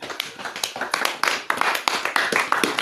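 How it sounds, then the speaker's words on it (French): Audience at a church talk claps in a brisk, uneven burst of close hand claps, sharp individual slaps overlapping throughout at moderate loudness. "Applaudissez pour Gaius."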